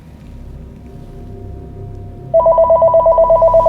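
A telephone rings for an incoming call, a loud, rapidly pulsing electronic tone that starts suddenly after a stretch of quiet background sound and continues steadily to the end.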